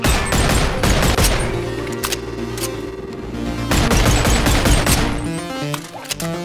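MK18 rifle firing in BoneLab, loud rapid bursts of gunfire in two main volleys separated by a short pause, close and punchy.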